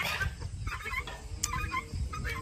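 Several chickens cluck and chatter nearby, quiet and busy, with short overlapping calls and no talking.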